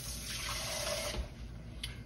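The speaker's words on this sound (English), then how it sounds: "Put a little bit more water in here" Water running steadily from a tap into a pan for smothered pork steaks, a continuous close hiss and splash with no talking.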